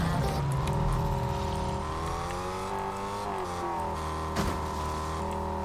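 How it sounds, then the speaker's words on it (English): A car engine hums and revs steadily in Fortnite, pitch sliding up and down as the vehicle is driven around, loud and continuous with no talk over it. "I guess I can sit in the car and just drive this around."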